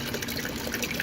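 Garden tomatoes for pasta sauce pour steadily into a pot, giving a continuous wet, sloshing gush close by, with no talking over it.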